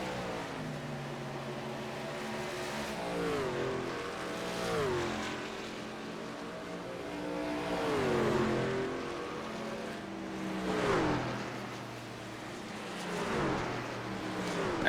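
Truck series race engines roar past in a close pack at Georgia Mountain Fairgrounds, each pass rising and falling in pitch as the trucks sweep by, a steady drone of revving motors without speech.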